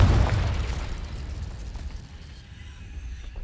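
A Confringo blasting spell explodes in the Hogwarts Legacy video game with one heavy boom up front that rumbles and slowly fades into a low, lingering roar.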